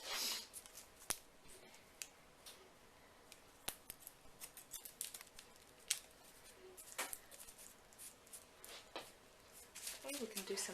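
Faint, rapid snips of thinning scissors working through short hair, irregular clusters of light cuts close up with low background noise.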